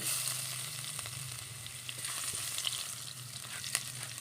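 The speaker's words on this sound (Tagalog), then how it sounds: "Lagyan ko na ng bawang." Garlic frying in a hot electric boiling pot, a steady close sizzle with a continuous bright hiss and a low hum, with no talking.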